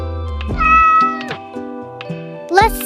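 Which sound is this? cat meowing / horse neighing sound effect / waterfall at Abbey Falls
cat meowing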